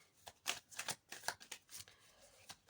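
Tarot cards being handled and laid down during a reading, a quick series of close, soft papery flicks and slaps in an uneven rhythm, fairly faint and without speech.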